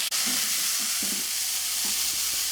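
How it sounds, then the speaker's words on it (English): Food sizzles and crackles steadily in a hot pan as beef tortilla bake filling with peppers and diced tomatoes cooks, with soft scraping stirs underneath. "Just let that continue to sizzle."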